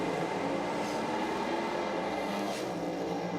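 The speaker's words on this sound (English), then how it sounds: "Once again, you hear the turbo car building the boost" A turbocharged drag racing car builds boost at a nitro drag racing event, a steady, dense mechanical roar heard from some distance that holds at an even level throughout.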